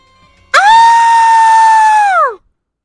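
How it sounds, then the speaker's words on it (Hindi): A woman's long, piercing scream for a Hindi horror story, one loud sustained high cry lasting about two seconds that rises sharply and then slides downward as it fades, alone against silence. "निशा की चीख सुनते ही"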